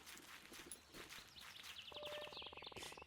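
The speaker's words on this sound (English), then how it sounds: "Footsteps like that I can hear from a mile away." Footsteps crunch along a path in the cozy video game The Garden Path, a series of soft, close steps that continue as a steady musical tone enters partway through.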